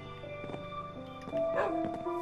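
A dog in Minecraft on PlayStation 4 gives short yips and whimpers, close and moderately loud, over steady game music tones.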